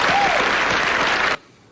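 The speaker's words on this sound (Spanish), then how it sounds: "Un aplauso para él, por favor." Loud audience applause on a Peruvian talk show, a steady wash of many hands clapping that stops abruptly near the end.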